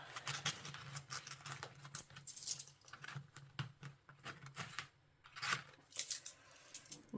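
Coins are counted out by hand, with repeated close metallic clinks and small jingles arriving in irregular bursts and quiet gaps between them, and no one talking.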